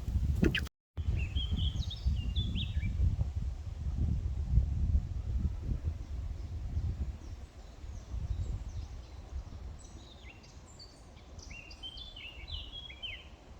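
Blackbird singing high in the trees of a quiet wood, its clear fluting phrases coming now and then from a distance over soft rustling, with no one talking.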